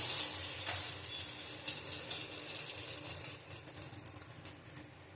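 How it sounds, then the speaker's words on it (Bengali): A bay leaf fries in hot mustard oil over lowered heat, giving a steady, soft, hissing sizzle with light crackles throughout, faint and close, with no talking. "এই তেলের মধ্যেই ভেজে নেবো মশলা"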